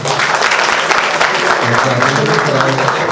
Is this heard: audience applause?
yes